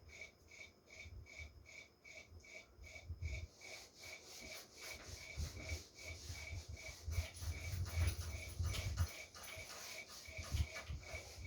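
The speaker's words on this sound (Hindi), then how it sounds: "इसको मैं रब करता हूँ इस डायग्राम को" Rubbing strokes wipe a drawn diagram off a classroom board, a repeated scratchy swishing in irregular bursts close by, with a faint steady electronic tone pulsing in the background.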